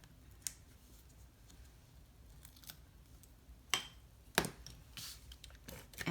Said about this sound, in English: So I'll just peel these backings off of my tear and tape.